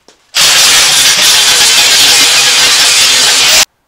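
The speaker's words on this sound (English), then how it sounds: "All right, grind away." A handheld grinder wheel grinds metal while welding a propane rack for a school-bus conversion, a loud continuous harsh hiss and roar lasting about three seconds, starting and stopping abruptly, close up with no talking.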